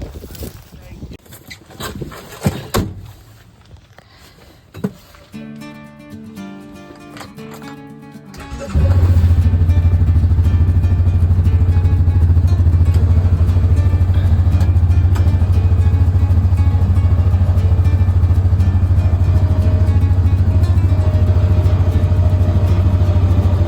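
A light aircraft engine on a remote Alaskan island spools up before takeoff, quiet clicks and shuffling giving way to a loud, steady droning roar that holds for the rest of the stretch.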